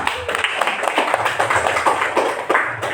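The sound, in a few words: group applause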